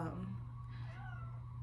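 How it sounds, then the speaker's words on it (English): A pet cat lets out a drawn-out, wavering meow indoors, heard alone and fairly faint over a constant low electrical hum. "sorry, that's my cat"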